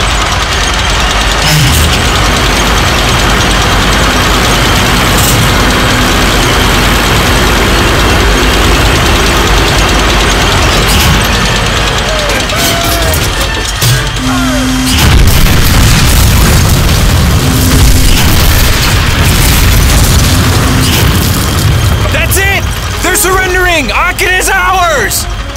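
Heavy booms and rumbling tank engines from German Panzer tanks and a big gun in the Call of Duty: Finest Hour video game, loud and continuous under in-game music, with a short burst of pops near the end.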